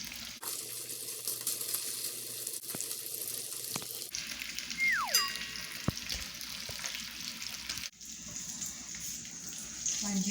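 Steady broadband sizzling of turkey bacon frying in a pan, with clattering and a brief rising squeal partway through, continuous and close.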